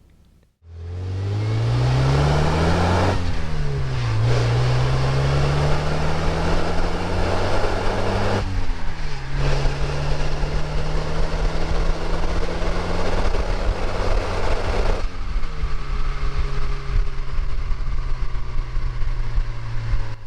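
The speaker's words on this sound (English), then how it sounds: "the engine was running strong, it had nice linear acceleration, and wasn't stumbling at any point" A Porsche 944 engine revs up through several gears while driving, with rising pitch sweeps and shifts, loud and continuous from inside or near the vehicle, running strong with smooth linear acceleration and no stumbling.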